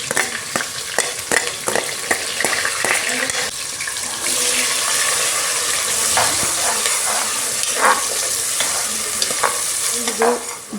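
Green chillies frying in a hot pan for a chicken fry, with a loud steady sizzle, repeated sharp spoon or spatula scrapes against the pan, and some running water nearby.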